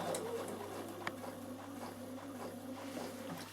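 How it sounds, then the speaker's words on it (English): A Bernina sewing machine stitches fabric right beside iron-on interfacing, its motor humming steadily with a fast, even needle patter and one brief click, fairly quiet and close. "I'm going to stitch exactly beside my iron-on interfacing"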